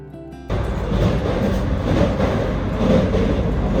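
A Vande Bharat Express train running between Puri and Rourkela, heard from inside as a loud, steady rumble of wheels and motion that starts abruptly after a brief quieter moment and continues throughout.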